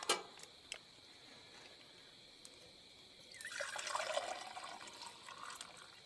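Water is poured into a cup for coffee at a campsite, starting as faint trickles and drips, then swelling into a fuller pour for a couple of seconds before tapering off.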